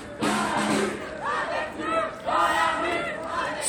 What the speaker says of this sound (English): Screams right now from the crowd